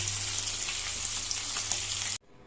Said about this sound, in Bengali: বোয়াল মাছ কিন্তু খুব সাবধানে ভাজতে হবে, খুব তেল ছুটছে, মাছ ফাটবে